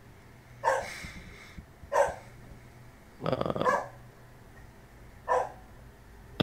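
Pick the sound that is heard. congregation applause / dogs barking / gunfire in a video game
dogs barking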